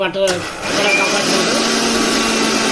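A mixer grinder hums steadily with a high motor whine, grinding drumstick leaves into a spice powder. A brief voice precedes the continuous, loud grinding.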